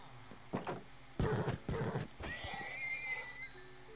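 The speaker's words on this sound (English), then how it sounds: "Do donkeys give you anything?" A Minecraft donkey brays in a few loud, rough bursts, followed by a thinner drawn-out squeal that trails off.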